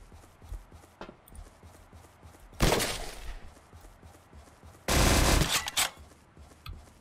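A minigun in the game surviv.io fires two loud, sustained rattling bursts, each lasting about a second, with quieter game sounds and scattered clicks between them.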